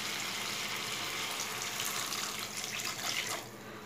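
Water being poured into cooked-down tomato masala for a pabda fish curry, a steady splashing pour that runs for a few seconds before tapering off.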